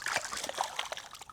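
A small caught fish thrashing at the water's surface while being unhooked, giving a quick burst of close splashes and drips lasting about a second.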